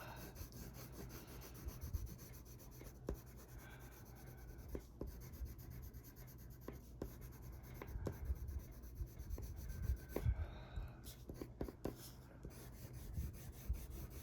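Soft, steady scratching and rubbing of pencil on paper, close and quiet, with occasional light taps between strokes.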